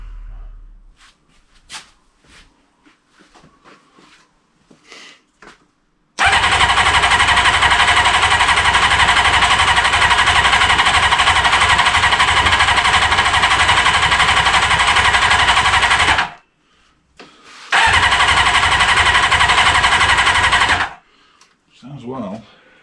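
Rebuilt Kawasaki GPz400r motorcycle engine cranks and fires up, running loud and steady for about ten seconds, cutting out briefly, then restarting and running again before stopping; faint handling noises come before it.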